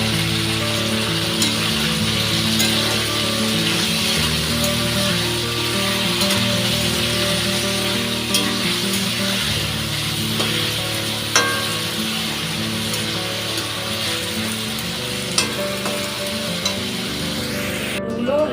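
Soybean chunks and potatoes frying in a pan with a little salt and turmeric, giving a loud, continuous close sizzle with occasional soft stirring scrapes throughout and no voices.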